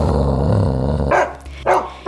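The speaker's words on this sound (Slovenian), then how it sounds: "In ko sta se muca Liza in pes Bruno prvič srečala, je pes grdo zabrusil" A dog barks and growls up close, a rough sustained growl followed by two sharp loud barks, with no voices.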